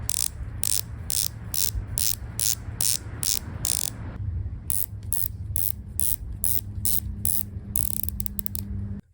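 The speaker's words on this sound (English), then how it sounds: "Rotating the bezels on both watches is enjoyable" Watch bezels on a Rolex and a Sam Mariner homage are turned, giving rapid, regular ratcheting clicks in two bursts, crisp and close with a brief pause between them.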